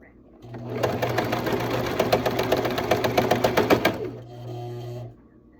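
A sewing machine hems fabric in one close, steady burst of rapid stitching with rhythmic needle ticks and a low motor hum, then winds down; a voice speaks briefly near the end.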